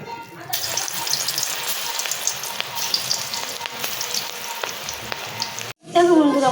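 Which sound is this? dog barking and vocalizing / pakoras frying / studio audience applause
pakoras frying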